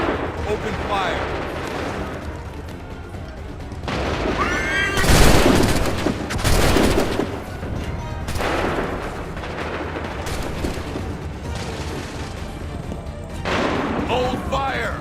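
Musket volleys in Assassin's Creed 3 roar out as massed, thundering blasts, with the loudest near the middle, amid battlefield din and shouted commands.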